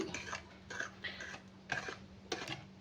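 A whisk stirs a powdered sugar mixture in a bowl for a quick chocolate syrup, making soft, uneven metallic clinks and scrapes in several short bursts with quiet pauses between them.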